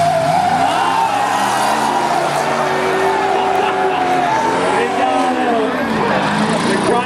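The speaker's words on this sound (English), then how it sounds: "The Chrysler got spun." A Chrysler demolition drag car spins out at a drag strip, its tires squealing and skidding in long wavering screeches over loud engine noise, with a voice talking briefly amid the racket.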